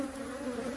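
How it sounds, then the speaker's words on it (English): Honeybees buzz in a close, continuous hum while a beekeeper inspects an open nucleus colony hive, the steady drone filling a brief moment. "Lots of bees."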